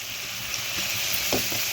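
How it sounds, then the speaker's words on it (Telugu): Onions and meal maker fry in a pan as turmeric is stirred in, giving a steady close sizzle with a few scraping stir strokes and no voices. "పసుపు కూడా వేసేసుకుని ఒక్కసారి ఇలా కలిపేసుకోవాలి. ఇది 1 నిమిషం వేగాలి."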